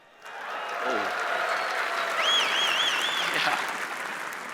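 Applause from a large keynote audience in a conference hall swells quickly and holds as a dense, even wash of clapping, with a brief whistle-like tone rising above it.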